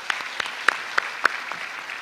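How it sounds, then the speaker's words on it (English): Brief, sparse clapping from an audience at a formal induction ceremony, a handful of separate claps standing out over a soft background. "Please, another round of applause."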